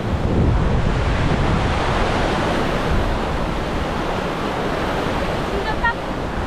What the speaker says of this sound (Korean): 눈 감고 한번 파도 소리 들어보세요